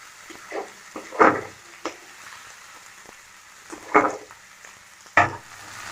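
Tarka frying lightly in a pan, soft steady sizzle with occasional louder scraping bursts from stirring, close and alone without talk.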